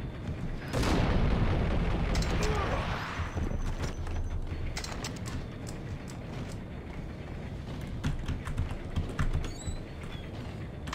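A pump-action shotgun fires in the Max Payne video game, a loud booming blast near the start followed by scattered clicks, clattering and lighter impacts as the action continues.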